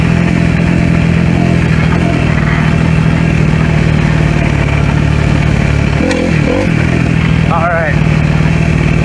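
A Kawasaki KX250F dirt bike is ridden outdoors, its engine droning loudly and continuously close by, with a brief rev change near the end and wind noise over the microphone.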